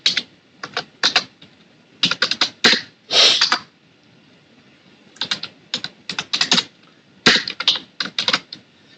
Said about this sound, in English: So now I have finished all the typing.